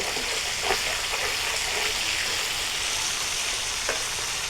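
Fish fry gently in a pan over low heat, giving a soft steady sizzle, with a couple of brief clinks or scrapes as the pieces are turned; no voices.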